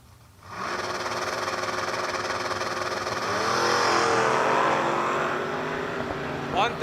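A drag racing car launching down the strip at a shore-area event, including a 1977 Vega labeled as a Camaro, a loud sustained engine roar building and holding for several seconds.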